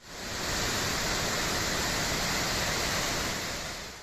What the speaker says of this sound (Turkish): Tortum Gölü'nden beslenen Tortum Şelalesi de coştu